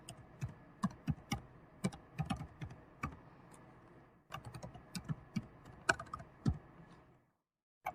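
Computer keyboard typing while filling in a PDF form, a steady run of close, crisp key clicks in irregular bursts with a brief pause midway, then stopping near the end.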